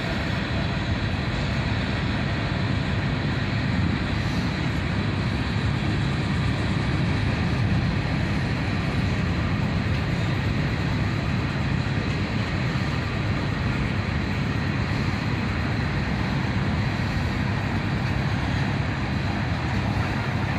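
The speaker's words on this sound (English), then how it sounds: "there it goes, an SD70 ACC, helping push this train along" A CSX freight train rolls by with an SD70ACE pusher locomotive shoving at the rear, a loud, steady low rumble of wheels and engine noise sustained for the whole stretch, close to the track.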